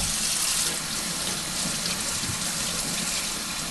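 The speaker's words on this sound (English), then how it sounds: "I'm going to rinse my brush out with some soap" Tap water runs steadily from a kitchen faucet into a sink while a pastry brush is rinsed with soap, a continuous close hiss of flowing water with no talking.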